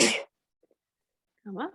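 A single sharp sneeze bursts out at the start during a flat-back yoga practice, followed by silence and then a short spoken phrase.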